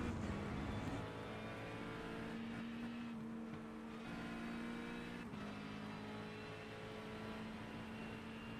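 McLaren GT race car heard onboard in iRacing at Algarve, a steady, fairly faint engine drone holding one pitch with small dips and rises through the turns, without talk.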